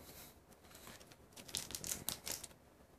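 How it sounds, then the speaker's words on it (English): Scissors snip through the crinkly plastic wrapper of a Magic: The Gathering Return to Ravnica card pack, a quick run of crisp cuts and crackles after a quiet moment. "I'm going to use the scissors"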